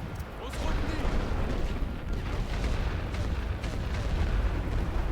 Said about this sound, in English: They are not being shy with artillery, trying to target my troops here.